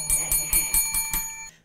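A bell rings in a rapid, even series of about seven bright metallic strikes, close and loud, each with a shimmering ring, then stops abruptly.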